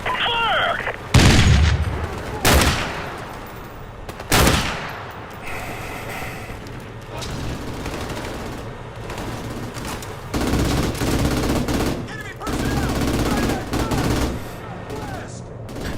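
Tank cannon blasts and gunfire from the Call of Duty Modern Warfare Remastered campaign: heavy booms hit in bursts, with rattling shots and rumbling explosions spread loudly across the battle.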